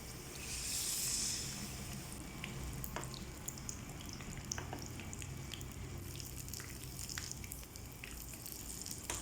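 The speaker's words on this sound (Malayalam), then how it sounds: "എല്ലാം ഈ രീതിയിൽ തന്നെ നമുക്ക് വറുത്ത് കോരാം" Banana snack pieces frying in hot oil, a faint, soft steady sizzle with scattered small crackles and pops.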